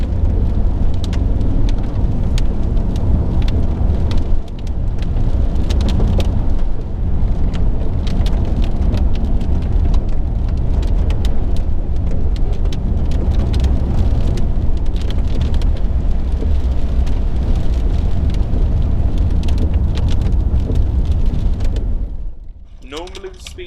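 A learner's car drives on a wet UK road through heavy rain and puddles, with a loud, continuous wash of rain and tyre spray. Occasional bumps break it, and a voice talks over the steady roar until it fades at the end.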